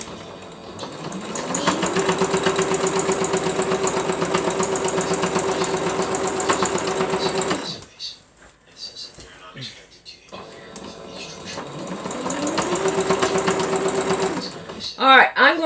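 A sewing machine stitches a beginner's quilt in two long, even whirring runs that rise up to speed, with a short pause of handling noises between them. Everything is close.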